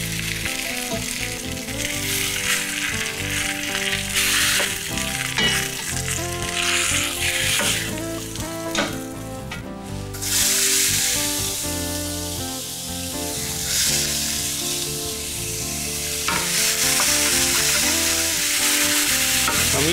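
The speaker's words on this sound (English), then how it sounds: "Now our lamb is pretty well browned here, so I'm going to get these into our braising dish now." Browned lamb shanks sizzle loudly and continuously in a pan for Italian braised lamb, a close, dense frying hiss with some stirring and scraping throughout.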